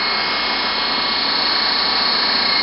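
A DC motor running at raised voltage gives a loud, constant high-pitched whine with a broad rushing hum, steady throughout with no talk.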